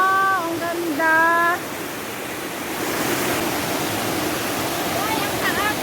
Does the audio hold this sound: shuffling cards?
no